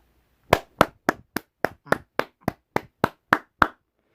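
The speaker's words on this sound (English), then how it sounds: "everyone give Nick a round of applause for being there for me and helping out with the channel" A single person claps about twelve times in an even, unhurried rhythm, each clap sharp and close against near silence.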